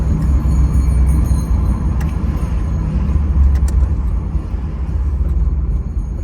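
Interior cabin sound of a 1986 Chevrolet Camaro IROC-Z with a 5.0 V8 cruising at around 45 mph, a steady low engine and road rumble with faint high whine, no talk.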